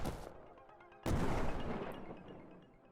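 A shotgun blast booms out as a sound effect: a sharp crack at the start, then a louder heavy shot about a second later that rings and decays slowly.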